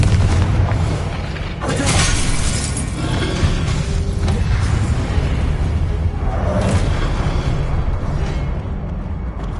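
Blasting spell explosions in the Hogwarts Legacy video game, with heavy booms bursting out at two moments over a dense, continuous rumble of game sounds.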